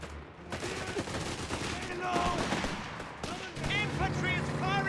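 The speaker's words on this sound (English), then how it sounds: "Infantry is firing on us!" Gunfire from the Company of Heroes video game: a continuous battle din of rapid shots and bursts at moderate loudness, with game voices calling out over it.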